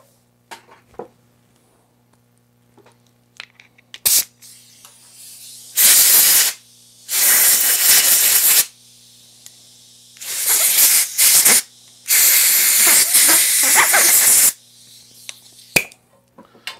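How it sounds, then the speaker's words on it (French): A compressed-air blow gun blasts the adjusting nut of an EQ6 telescope mount during a modification, making about five loud, close bursts of harsh hissing, separated by quiet gaps with small clicks. "je vais juste donner un petit coup de gun à l'air à ça aussi"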